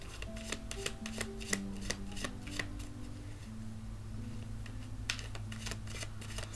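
Cards riffle and shuffle in quick repeated bursts over a low steady hum, close and fairly quiet, with no talking.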